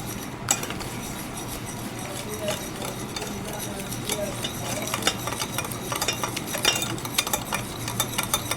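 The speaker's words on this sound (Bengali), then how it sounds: "দুটো ডিম দিয়ে আমি এখন চিনিটা ভালো করে গোলাইয়ে নেবো" Two eggs and sugar are beaten together in a bowl for small cakes, making a busy, continuous stirring and light clinking of a utensil against the bowl, close up and fairly steady throughout.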